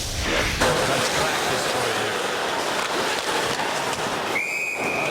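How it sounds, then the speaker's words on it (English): At an NHL ice hockey game between the Philadelphia Flyers and Ottawa Senators, a referee's whistle gives one short, shrill blast near the end, rising over a steady, loud crowd roar and arena noise. "It's over a second when the whistle blew."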